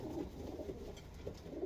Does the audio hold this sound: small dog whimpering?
no